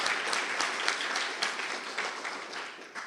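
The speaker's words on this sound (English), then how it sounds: "let's give them a good big round of applause" Congregation applause at a Sunday celebration service welcoming reverends in training, a steady dense wash of many people clapping at moderate distance with no talking.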